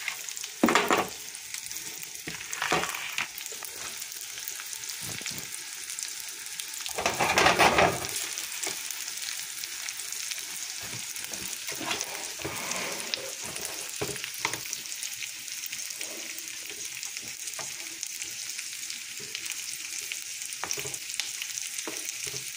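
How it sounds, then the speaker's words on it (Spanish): Onion and green pepper fry in a pan with a steady crackling sizzle, broken now and then by louder scrapes and stirs of a utensil against the pan, close and without talk. "Está sorprendiendo nuestra cebolla y nuestro chile verde o green pepper."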